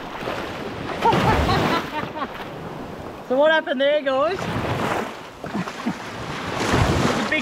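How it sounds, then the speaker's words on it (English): Bow wave from a passing big boat washes against a small aluminium tinny off Fraser Island (K'gari), surging water and splashes mixed with heavy wind buffeting, while people talk nearby. "The big boat went past."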